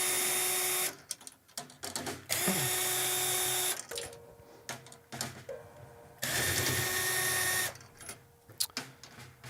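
Power drill turning an Evans drill bit to tension the drum head on a Ludwig 6.5x14 chrome over brass snare, running in several loud, whining bursts with short pauses and small clicks between them.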